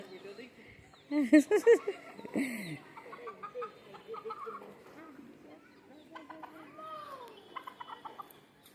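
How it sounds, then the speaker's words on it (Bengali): Free-range village chickens clucking close by in a short burst of quick calls, then quieter scattered clucks, while people talk intermittently. "দেশি মুরগি দেখেন আমার মা পোষা মুরগি"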